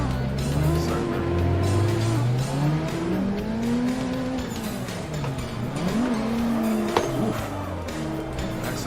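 Drifting car in the Assetto Corsa racing game, with a steady engine drone rising and falling in pitch under continuous squealing tires, loud and close, with a brief sharp click near the end.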